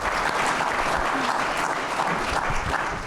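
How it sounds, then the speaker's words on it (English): A meeting audience at a storm water ordinance session claps steadily, a thick wash of applause for about three seconds, fairly near. "please give them a round of applause"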